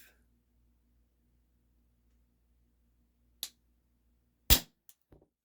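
A single sharp crack from a shot of an Isaazon single-stroke pneumatic 4.5mm air gun, close and loud in a quiet setting, followed by a fainter tick or two, with a softer click just before.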